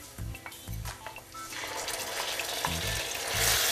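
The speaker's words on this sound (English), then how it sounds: "and just stir that in back and forth" Washed rice and sugar stirred back and forth in a pan for a Turkish dish, giving soft scraping and light sizzling with a few louder low scrapes spaced through the stirring.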